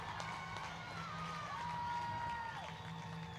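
A hockey crowd at a high school play-in game cheering and shouting in a sustained roar inside the arena, with whistles and excited voices rising and falling.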